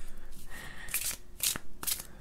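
A deck of Golden Tarot cards being shuffled by hand: three crisp riffling bursts, close and fairly quiet, with soft rustling of cards between them.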